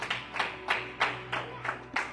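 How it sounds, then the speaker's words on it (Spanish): A church congregation claps in a steady rhythm, about seven separate claps over two seconds. The claps are moderately loud and somewhat distant, with no talking over them. "Dele otro aplauso fuerte al Señor."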